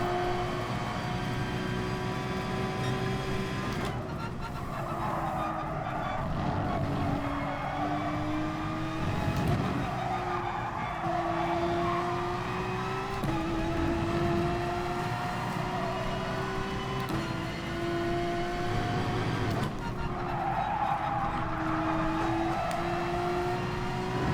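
A race car laps a circuit in Gran Turismo Sport: a continuous loud engine whine that rises and falls through gear changes and braking, steady throughout with no talking.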